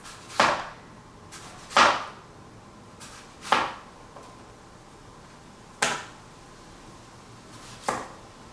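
A knife slicing through an apple onto a cutting board, six separate sharp crunching cuts at irregular intervals, each a short crisp chop followed by quiet.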